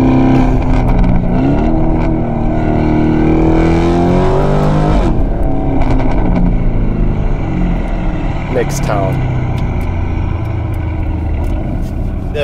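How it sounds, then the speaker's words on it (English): A Lamborghini Urus with a Novitec exhaust roars loudly and continuously, revving up and down with a deep exhaust growl, while someone speaks briefly over it. "This exhaust of ours makes this car bonkers."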